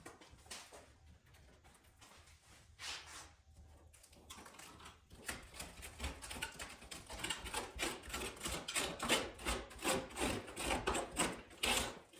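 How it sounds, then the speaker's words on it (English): Old weather stripping is ripped out of a 1970 Buick GS350 coupe body. Quiet rubbing and scraping at first builds into rapid, repeated tearing and rasping bursts up close. "So let's get this weather stripping off, rip the weather stripping out"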